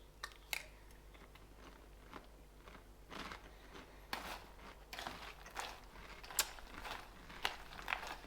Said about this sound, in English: So I'm gonna eat it with cereal